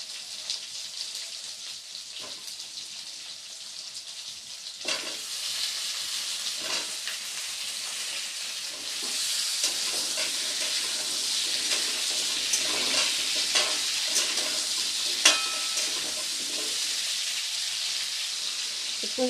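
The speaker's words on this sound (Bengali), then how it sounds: "কুমড়োটাকে দিয়ে হালকা নাড়াচাড়া করে নেওয়ার পরে" Pumpkin frying in a pan for a Bengali hilsa-head and Malabar spinach dish, a bright, steady sizzle that grows louder after a few seconds, with occasional soft scrapes of stirring.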